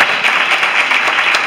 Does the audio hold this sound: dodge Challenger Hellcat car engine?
no